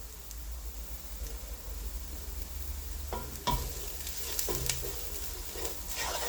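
Garlic and smoked paprika sizzle steadily in a pan, a soft continuous frying hiss with a few scraping stirs of a utensil partway through, close and moderate in level with no talk.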